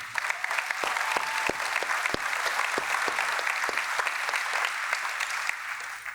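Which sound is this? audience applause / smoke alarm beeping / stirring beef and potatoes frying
audience applause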